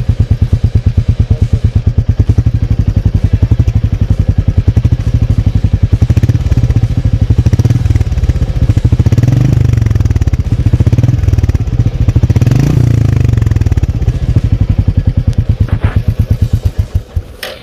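Royal Enfield Meteor 350 motorcycle exhaust while riding, a loud, close, steady single-cylinder thump that rises and falls slightly with throttle, then eases off at the end.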